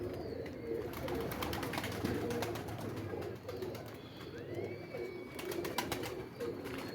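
Pigeon cooing in soft, repeated low phrases close by, with faint chirps and a thin whistle-like tone drifting through the background.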